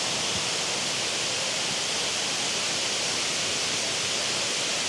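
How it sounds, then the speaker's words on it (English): A waterfall near Luang Prabang, Laos, heard from the top of the falls: a constant, even roar of rushing water, loud and steady without a break. "So here we are at the top of the waterfall."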